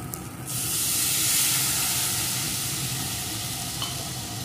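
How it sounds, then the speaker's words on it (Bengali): Milk poured into a pan of spiced soybean paste being fried with masala, giving a loud, steady sizzle and hiss that jumps up after a brief quiet start and holds, with faint stirring. "এখন এর ভিতরে যে দুধটা ছিল সেই দুধটাকে দিয়ে দেব।"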